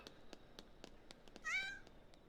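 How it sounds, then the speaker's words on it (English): A cat meows once in a spooky video game, a clear drawn-out cry in the middle, over a steady rhythm of soft ticking steps. "Oh yeah, it's the freaking cat."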